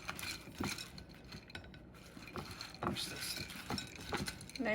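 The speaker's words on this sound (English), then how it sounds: "So he's going to just mix it around." Oiled pumpkin seeds being stirred in a bowl, producing soft, irregular clinks and scrapes of a utensil against the bowl, quiet and close, with a few sharper knocks.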